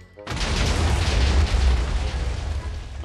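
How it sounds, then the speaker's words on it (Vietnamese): A Minecraft pirate-mod skill detonates with a sudden loud boom, then a long, dense rumbling roar sustains for about three seconds without fading much. "hình như trái này nó nổ từ đây xuống tít lòng đất hay sao á"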